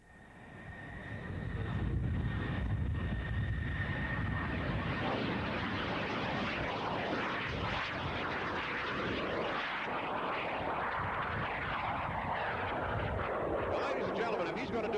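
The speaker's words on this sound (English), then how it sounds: "Jet airplanes go fast, so he does his whole show with the throttle wide open." A jet airplane roars at full throttle during Ed Johnson's performance at the 1986 East Hartford air show. The roar swells in and holds as a loud, continuous, broadband rumble while a voice talks over it.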